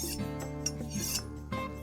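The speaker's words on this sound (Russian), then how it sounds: "Несколько раз провели," A kitchen knife drawn across a ceramic honing rod, a few soft scraping strokes with faint metallic ringing, close and quiet.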